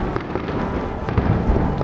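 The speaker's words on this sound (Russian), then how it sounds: "Интересные, конечно, фейерверки в Японии" A fireworks festival in Japan marking the close of the season produces a continuous, dense crackle of bursts and dull booms, loud and unbroken, with no voices over it.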